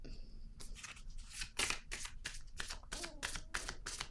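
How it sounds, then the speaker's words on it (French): Playing cards drawn and shuffled at close range, a rapid series of crisp riffling bursts and slaps repeating roughly every half second, with a faint voice briefly audible underneath. "je vais piger une autre carte ici"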